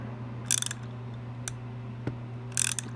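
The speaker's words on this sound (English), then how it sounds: "I'm going to take and put my wrench on it and just give it a little bit of a tightness." A wrench ratchets while tightening the nozzle of a butane torch, with two short bursts of rapid clicking and a few single clicks between them over a steady low hum, close and clear.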